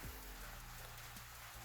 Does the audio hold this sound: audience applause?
no